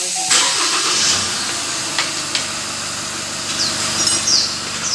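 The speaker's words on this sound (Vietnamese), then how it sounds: "Nổ máy được em ơi." A car engine starts up at a tyre shop during installation of tyre pressure sensor valves, then settles into a steady running hum with hissing and a few clanks nearby.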